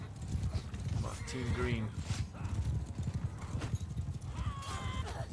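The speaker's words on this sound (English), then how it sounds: "Everybody on horses." Horses gallop with steady rapid hoofbeats through a battle in the video game Bannerlord, joined by whinnies. Someone talks briefly over the clatter.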